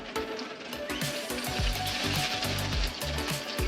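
Sliced onions fry in very hot oil on a low flame to make beresta, giving a loud, dense, continuous sizzle with faint bubbling.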